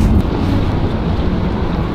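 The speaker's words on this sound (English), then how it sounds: "it's very windy up here" Strong, steady wind buffets the microphone on a high bridge above Porto, a continuous low roar with no break.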